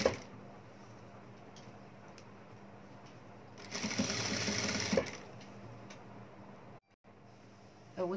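An electric sewing machine stitches a gathered ruffle onto a bedsheet in a short burst of rapid mechanical whirring, set between quieter handling sounds and faint ticks, with a voice speaking softly at moments.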